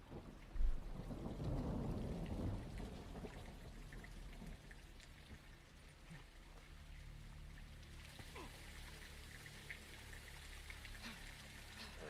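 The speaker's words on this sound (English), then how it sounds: "It's pissing it down out here." Heavy rain in the video game Black Ops 6: a steady, fairly quiet downpour hisses throughout, with a deeper rumble over the first few seconds.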